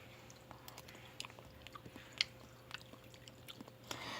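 Someone chews and bites into a soft, frozen jelly-like dessert, giving faint, close, wet squishy mouth sounds in scattered bursts over a quiet background.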